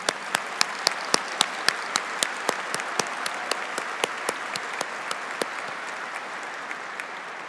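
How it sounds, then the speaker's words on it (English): Scattered audience clapping at a 2021 University of Minnesota undergraduate commencement, a few distinct hand claps ringing out in a steady rhythm over a soft wash of crowd applause. "Please give a round of applause for Regent Kenyanya and Associate Dean Raj Singh"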